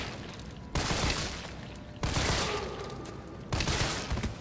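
Gunfire aimed at a zombie in Resident Evil 3 Remake: three loud broadband bursts at regular intervals, each followed by a short decaying rumble, with no talking.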